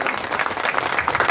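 Loud, steady applause from a large crowd fills the air at a district-level ceremony honouring ex-servicemen and martyrs' families in Gangapur City, sustained dense clapping without a break.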